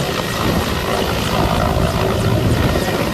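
Rescue helicopter flying over a flooded district, its rotor and engine roar loud, steady and continuous throughout, with no other sounds breaking through.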